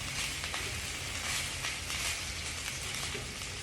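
Onions and peppers sizzle in a hot pan, searing toward caramelized, a steady broadband hiss with small crackles running throughout, fairly close and without talk.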